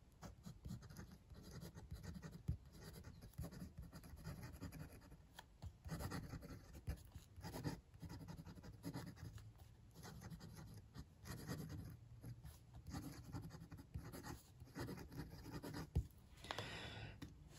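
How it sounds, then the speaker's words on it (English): Gravitas fountain pen with an extra fine nib writing on paper, a continuous faint scratchy scribble of close pen strokes with small pauses, heard alone in a quiet room. "So let's see the pen writing now."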